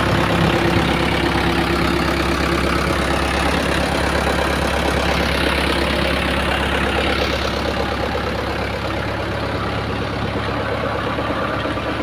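A tractor runs a PTO-driven pump for gutter clearing, a loud, steady mechanical engine drone with a constant low throb held evenly throughout, close by and with no talk.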